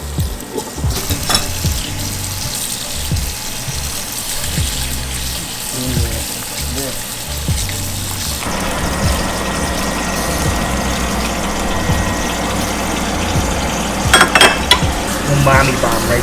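Beef jerky fries in a hot pan during Cambodian home cooking, a steady close sizzle throughout, with a louder burst of spattering and stirring near the end.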